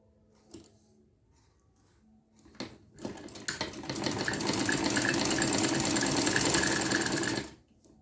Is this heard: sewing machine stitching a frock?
yes